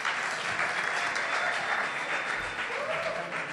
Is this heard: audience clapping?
yes